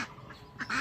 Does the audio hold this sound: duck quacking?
yes